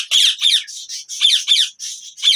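Ringneck parrot squawking in a rapid series of harsh, shrill calls, about eight bursts in quick succession with short gaps, loud and close, alone with no talk.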